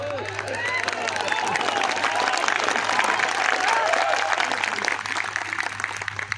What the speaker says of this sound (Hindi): बजाते रहे ताली